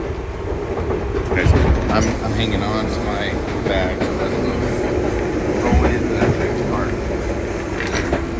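Passenger train riding through the Mount Fuji area in Japan, steady rumble and clickety-clack of wheels on rails heard from inside the car, with people talking over it throughout.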